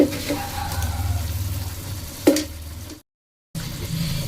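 Spices with turmeric and sugar sautéing in a pan on a medium flame for paneer bharta, a steady close sizzle with a few scraping stirs and a brief silent gap.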